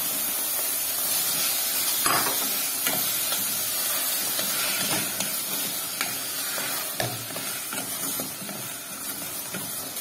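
Okra dropped into a pot with diced onions and meat for a Palestinian okra with basil dish, giving a steady, loud hiss and sizzle with a few clattering knocks throughout.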